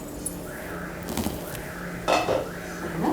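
A lid is set onto a cooking pot of vegetables in a home kitchen: a few metallic clinks and a short clatter of metal on metal, close and fairly quiet against faint background hum.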